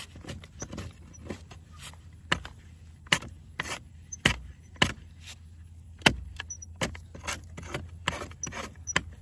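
A wooden utility pole being scraped down by hand during an inspection, with repeated sharp scraping strokes at an uneven rhythm over a low outdoor rumble, close and moderately loud.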